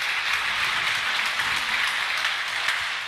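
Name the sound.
congregation applauding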